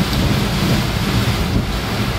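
Torrential rain and thunder from a sudden guerrilla downpour with hail, heard from a car on a road in Saitama; a dense, steady, loud roar of rain with deep rumbling underneath, no talking.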